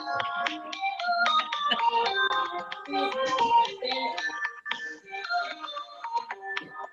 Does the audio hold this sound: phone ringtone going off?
yes